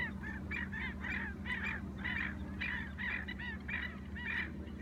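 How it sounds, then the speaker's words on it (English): Black-necked stilts, twenty or thirty of them, calling noisily from a wetland pond at night: repeated sharp yapping calls in quick bursts over a steady low background hum. "You can probably hear the black-necked stilt, the endemic and endangered IO, making a lot of racket next to us."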